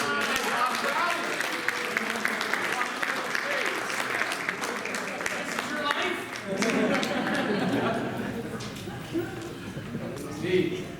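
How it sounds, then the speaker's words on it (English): An audience at a real estate company summit claps steadily for about ten seconds, a dense, sustained round of applause with voices chattering through it. "let's clap it up for him"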